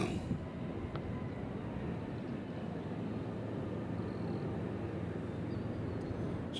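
A WestJet airliner departs Nashville International Airport on runway 20 right bound for Toronto, heard as a steady, loud broadband jet roar that holds level throughout, with no talk over it.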